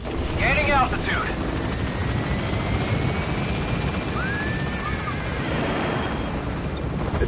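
A video-game helicopter climbs, its rotor and engine roar filling the clip steadily with a few short synthetic chirps and sweeps on top, loud and continuous.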